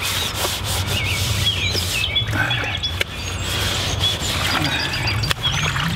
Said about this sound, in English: scraping down the surface.